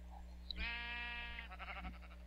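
A sheep on a farm in the video game Minecraft gives one long, wavering bleat, clear but fairly quiet against a low background hum.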